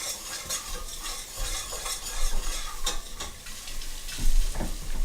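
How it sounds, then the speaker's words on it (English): Celery, carrots and other vegetables sizzle in a hot pan as they are stirred for acorn squash soup, with a continuous close crackle and scraping utensil strokes and no talking. "That's a good sound you hear, the sizzle."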